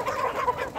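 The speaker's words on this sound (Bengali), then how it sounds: "মুরগি নিয়ে আসছে।" A chicken being carried in clucks in a brief, close burst of rhythmic throaty calls.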